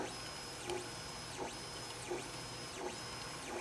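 A 3D printer lays down its first layer at 90 mm/s. Stepper motors whine in faint rising and falling sweeps that repeat about every 0.7 seconds over a steady low hum.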